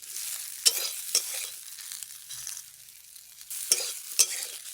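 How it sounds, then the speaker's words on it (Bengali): Okra being dry-fried in a pan with no oil, heard as a few sharp scraping stirs of a spatula and faint crackle, with quiet gaps between strokes. "ভেন্ডিটা আমি শুকনো খোলায় ভেজে নিচ্ছি, শুকনো শুকনো করে ভেজে নিচ্ছি"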